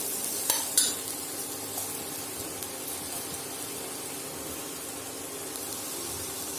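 Soaked, drained jeerakasala rice stirred in hot ghee in a pressure cooker for Kerala ghee rice, a soft steady sizzle with a couple of sharp scrapes of a spoon against metal near the start, close and quiet, no voices.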